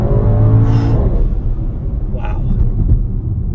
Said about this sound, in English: driving the 63S four-door, and it feels really tight